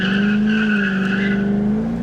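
A C5 Corvette fitted with a Billy Boat Bullet axle-back exhaust launches hard with its tires gripping. A loud, close, steady engine roar climbs gradually in pitch.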